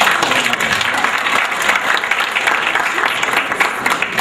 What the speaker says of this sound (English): That round of applause is not enough.